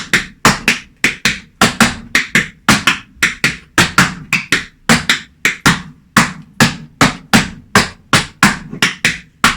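Tap shoes stamp on a floor in a beginner-to-intermediate tap class, a steady run of about two dozen sharp, loud, evenly spaced strikes, close and alone without any talking.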